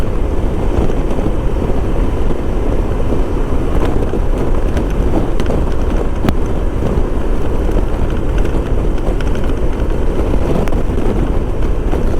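Constant heavy wind buffets the microphone while a 1994 Honda ST1100 Pan European rides along Sunrise Highway, a loud unbroken roar with a low rumble that never lets up, with no voices over it.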